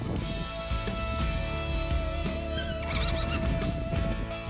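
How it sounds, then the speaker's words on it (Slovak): A horse neighs with a long whinny on a farm that keeps sheep, goats and poultry, amid steady background noise and some hoof clip-clop. "Máme 24 koní"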